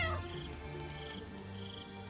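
A cat meows in Baldur's Gate 3, a single drawn-out call at the very start that trails off into a quiet, steady background of game ambience and music.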